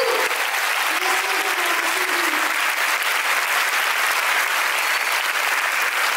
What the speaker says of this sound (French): Je vais vous inviter à l'applaudir